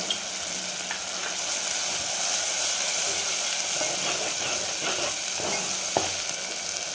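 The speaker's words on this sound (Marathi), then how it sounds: "तर यावेळेला कांदा खोबऱ्याचं वाटण टाकून घ्यायचं याच्यामध्ये" Onion-coconut masala paste sizzles steadily in hot oil for a dry mutton curry, with a dense, continuous frying hiss and occasional stirring scrapes and clicks throughout, close and fairly loud, with no talking.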